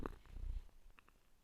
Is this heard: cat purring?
yes